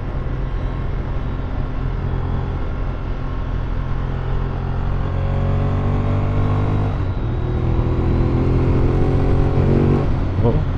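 A Ducati Monster 1200S with an oversized tire on a test ride, its engine droning loud and steady close by, the pitch climbing through the gears with a brief dip and rising again as it accelerates.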